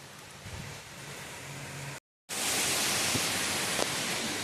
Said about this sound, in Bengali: এই দেখো কত জোরে বৃষ্টি হচ্ছে